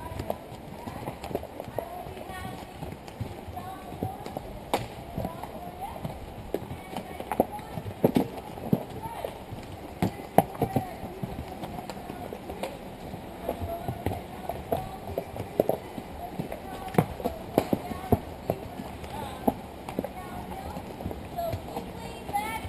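Horse hooves clip-clop in a steady, repeated rhythm throughout, close and moderately loud, with voices talking over the hoofbeats.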